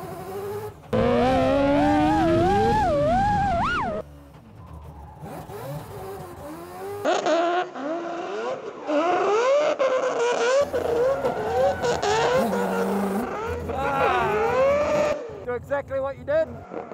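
A race car is driven in controlled slides, its engine revving hard in long rising and falling bursts with short drops in between. Tire skid and screech blend with the close, loud engine.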